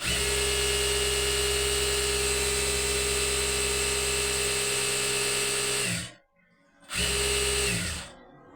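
A freshly oiled treadle-driven jack sewing machine runs fast in a steady, loud mechanical whir. It stops abruptly near the end, then briefly restarts and winds down again.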